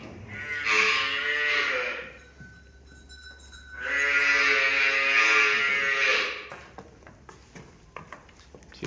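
A Murrah buffalo lows twice nearby, two long, loud moaning calls separated by a short pause, with faint rustling afterward.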